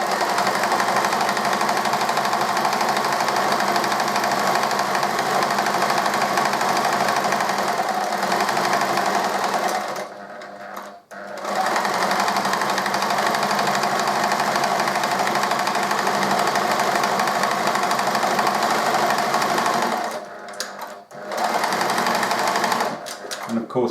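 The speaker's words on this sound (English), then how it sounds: "So I've pinned my fabric together and I'm ready to sew." A sewing machine stitches a seam through pinned fabric for an apron, a loud, steady, close motor whirr that runs for long stretches and pauses briefly twice as back stitches lock the ends.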